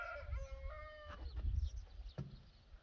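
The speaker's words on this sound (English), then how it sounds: "Did you guys hear a rooster?" A rooster crows once outdoors, a short harmonic call standing out above low background rumble and wind, heard at moderate distance, with faint clucking-like sounds after it.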